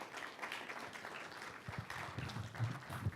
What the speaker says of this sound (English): how about a round of applause for Brad Ham?